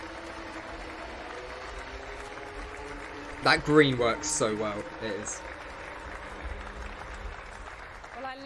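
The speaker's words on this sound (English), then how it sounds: "the first time you saw the images of that car, you were applauding straight away" A small audience breaks into brief applause and cheers over a car reveal of the 2022 Aston Martin Formula 1 car, lasting about two seconds amid people talking before and after.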